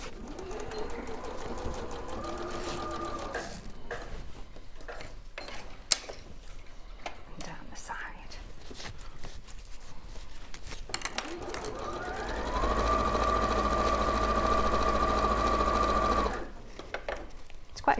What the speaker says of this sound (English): Then I'll be all ready for top stitching again.